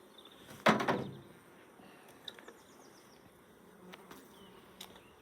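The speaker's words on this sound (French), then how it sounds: "Bon là, ça déborde d'abeilles." Honeybees hum faintly around a crowded Dadant beehive in a soft, continuous buzz, broken by a sharp wooden knock near the start and a few light clicks.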